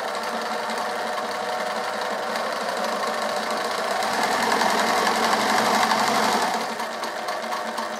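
A domestic sewing machine stitches through a fabric coaster with a steady, fast mechanical whir, close and continuous, rising slightly in intensity before easing off near the end.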